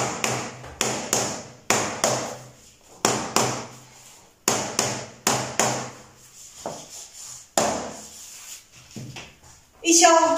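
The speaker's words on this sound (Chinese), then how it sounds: "用到了这个锤子。" A hammer taps the click-lock short-edge joints of long SPC vinyl floor planks during DIY installation, giving a series of sharp, evenly spaced knocks in small bursts, close and fairly loud.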